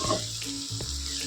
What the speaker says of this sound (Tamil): மிளகாத்தூளுடைய ஸ்மெல், அது வந்து போகிற வரையும் நல்லா இப்படி வதக்குங்க